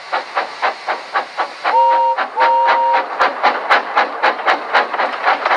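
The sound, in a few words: Thomas the tank engine steam train whistle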